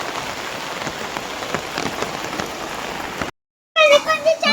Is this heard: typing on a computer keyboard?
no